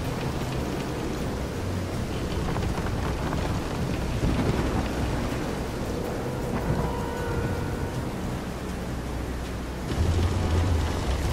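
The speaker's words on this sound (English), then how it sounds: "This is some storm." Thunderstorm with heavy rain aboard a pitching boat at sea in the Vision of Mana video game, a steady loud downpour with rolling thunder that swells near the end, no talking.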